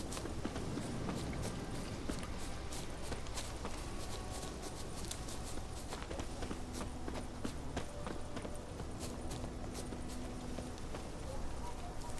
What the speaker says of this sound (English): It's not that silent, I can hear his footsteps.